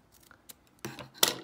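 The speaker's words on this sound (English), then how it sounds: "I'm also going to just cut some slits into this." Scissors cut slits into transfer tape and vinyl, giving a few faint snips followed by two louder, sharper crisp cuts close to the microphone.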